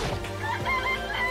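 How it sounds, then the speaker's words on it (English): A chicken in the Danganronpa video game clucks and crows in close, loud, wavering calls that run continuously without a break. "It's a chicken. It's not expecting to be fed like humans, is it?"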